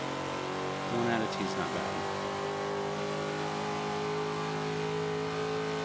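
A 1993 Ford Mustang Cobra engine in the racing game Forza 5 drones steadily at mid pitch, swelling briefly early on, with someone talking over it throughout.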